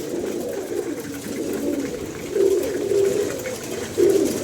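Kept pigeons coo repeatedly in soft, low, rolling calls, close by and fairly steady, with a few louder coos toward the end.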